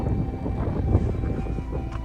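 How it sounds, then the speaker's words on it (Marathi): Strong, cold wind buffets the microphone during a motorbike ride through wet green hill country near Igatpuri just after rain, a steady loud low roar with gusts and no talking. "हवा चालू आहे जोरात, थंडगार वातावरण"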